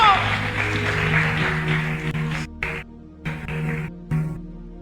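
Church congregation clapping along in praise during a sermon, steady rhythmic hand claps over sustained music and voices, with brief drops toward the end.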